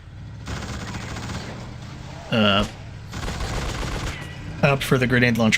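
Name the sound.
gunfire from grenade launcher and revolvers in The Suffering video game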